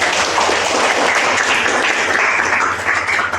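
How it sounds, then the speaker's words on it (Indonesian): Students in a polytechnic classroom applaud their classmates, a dense, steady burst of clapping filling the room from start to finish, loud and close with no talk over it. "Tepuk tangan dulu untuk teman-teman"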